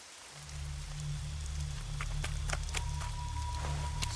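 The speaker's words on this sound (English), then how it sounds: "The rain pours" Steady rain pours in a scene from the video game Way of the Samurai 3, a soft wash of rainfall over a low droning hum, with scattered sharp patters and clicks standing out.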